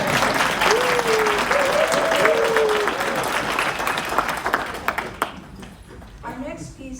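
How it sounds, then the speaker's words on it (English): Audience applause at a winter choral concert, steady clapping from a crowd that fades out over several seconds while a voice speaks over it. "We have a round of applause for our stage people."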